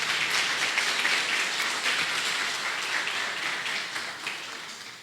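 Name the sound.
congregation applause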